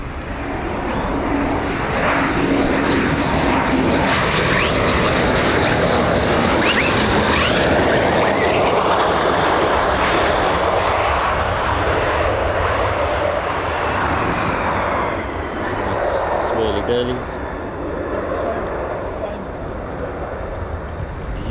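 An F-15 or F-35 fighter jet landing at RAF Lakenheath while aerodynamically braking, nose held high, produces a loud, sustained jet roar that slowly shifts in pitch, with voices under it.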